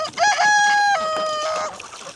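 A backyard hen gives a loud, close, drawn-out squawking cluck with strong harmonics, a single sustained call stepping down in pitch before fading, with no voices over it.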